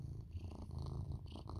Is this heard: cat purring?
yes